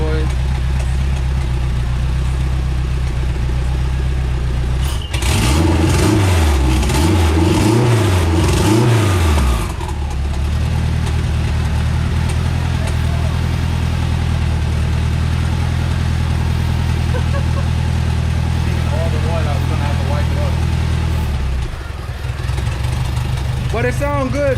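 Turbocharged Honda K24 in an EK hatch with a Rev9 manifold and turbo and a 44mm wastegate, idling loud and close, then a few sharp revs, then settling back into a steady lumpy idle.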